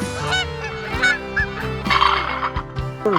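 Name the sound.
goose honking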